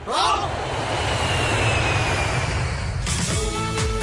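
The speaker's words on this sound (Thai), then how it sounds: "เครื่องบิน" An airplane engine roars in a steady, broad drone that holds for a few seconds, then gives way to a brighter mechanical whine near the end.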